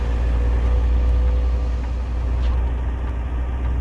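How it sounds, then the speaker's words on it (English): An FL86 truck engine idles in American Truck Simulator with a deep, steady rumble, a constant low drone that stays even and fairly loud with no talking. "I'm gonna go ahead and get the window up because this engine is just loud"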